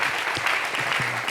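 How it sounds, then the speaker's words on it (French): Studio audience on a talk show breaks into applause, a continuous wash of clapping heard briefly with a few stray sounds mixed in. "On peut applaudir Aïcha"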